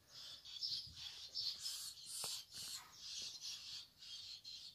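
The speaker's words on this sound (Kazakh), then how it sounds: "Мынау біздің қарлығаштар, балапандары." High-pitched chirping and squeaking from a cluster of swallow chicks, repeated calls in quick bursts, fairly close, with no talking.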